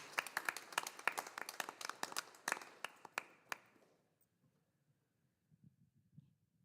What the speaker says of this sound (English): And please give them a round of applause.